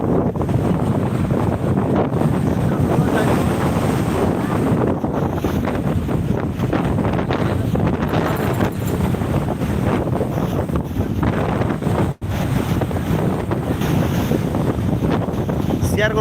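Strong tidal surge waves crash and roar continuously at Digha sea beach on a new-moon high tide, loud and close with heavy wind buffeting the microphone throughout.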